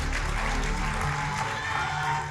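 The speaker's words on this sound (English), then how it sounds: "Huge round of applause for the police" Audience applause at a road-safety event in Bengaluru, a steady dense crowd clapping that holds evenly loud for the whole stretch and tapers slightly at the end.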